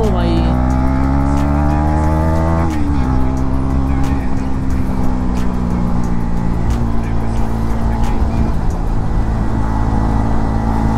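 A Yamaha R15 and a KTM Duke motorcycle drag race at full throttle, their engines screaming loud and close with a sharp gear-change dip and rising pitch sweeps, a continuous roaring wall of sound.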